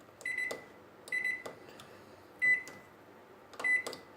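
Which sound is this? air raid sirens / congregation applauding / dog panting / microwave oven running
microwave oven running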